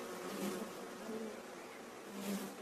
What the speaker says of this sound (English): An intimidating mass of bees designed to make any predator think twice.